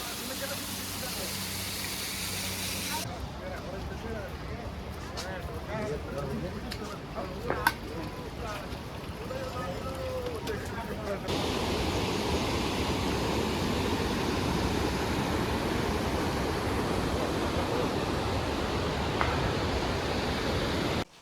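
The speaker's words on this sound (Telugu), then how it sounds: "మన ట్రెక్లో వచ్చిన ఒక చిన్న ఫస్ట్ వాటర్ ఫాల్ అనమాట ఇది." Small waterfall on the Kedarnath trek, a broad steady rush of falling water that turns louder and denser about halfway through, with talking heard over the first part.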